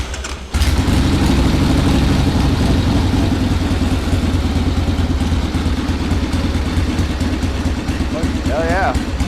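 A Harley-Davidson Ironhead motorcycle, a barn find unused for 25 years, starts and runs with a loud, steady, rumbling idle close by. It keeps a continuous throb throughout, with a brief higher mechanical whine near the end.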